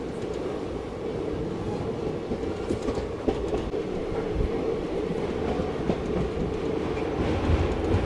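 Seshadri Express, running with ICF coaches, rolls into Bhimavaram Town station, its wheels clattering and rumbling loudly and steadily from start to finish, with no one talking.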